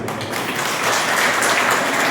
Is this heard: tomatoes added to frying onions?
no